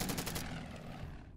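Rapid gunfire from a Spitfire attacking a Ki-67 Hiryu bomber in a strategy war game, a dense continuous rattle of shots that cuts off abruptly after about a second and a half.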